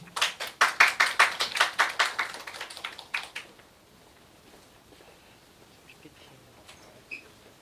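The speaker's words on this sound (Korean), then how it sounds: "큰 박수 부탁드립니다" Applause at a Yonsei University data youth campus event greets a master's student researcher as he is introduced, loud clapping for about three seconds before it fades quickly to a quiet room.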